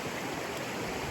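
Bridal Veil Fall in Utah pours as a steady, broadband rush of falling water, close and continuous with no breaks across the moment.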